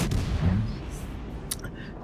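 HE shell gunfire from warships in World of Warships: Legends, heard as a few muffled booms and rumbles in a fairly busy game mix, with a sharper short burst near the end.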